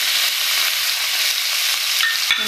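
Oil from frying fenouil sizzles steadily in a pan while onion and garlic are fried for a tajine, a dense constant hiss with a light clink of a utensil near the end and no talk.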